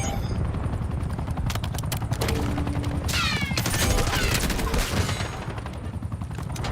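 A Watchdog helicopter killstreak in Call of Duty opens fire, rapid machine-gun bursts ringing over a steady rotor drone, loud and close, with sweeping whooshes as rounds stream in; no one speaks.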